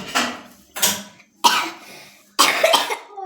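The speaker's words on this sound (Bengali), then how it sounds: "আর একজন আর এই যে কাশছে" A person coughing nearby in a home, four loud separate bursts spaced roughly evenly over a few seconds, with quiet gaps between them and no speech.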